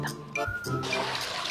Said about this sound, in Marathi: बया मी तर नळ काही चालू ठेवलाच नाही, कुणी ठेवलाय काय माहिती.